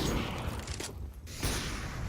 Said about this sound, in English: lots of explosions going on right now